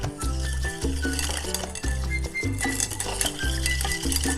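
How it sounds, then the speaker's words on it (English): Cornstarch, sugar and pineapple juice stirred together in a pot, producing a rhythmic series of close spoon-on-pot scrapes and clinks, repeated roughly every half second. "Let's stir that in."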